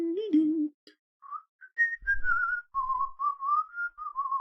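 Someone whistles a wavering melodic line by mouth, alone in a quiet room, with short gliding notes broken by brief pauses and a faint low thump midway.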